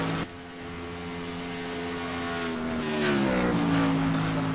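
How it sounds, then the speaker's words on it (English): A race car on a hot lap at a Las Vegas track roars past, the engine droning steadily then rising in pitch and loudness as the driver works the throttle, with a brief drop near the start. "You can hear him working the throttle."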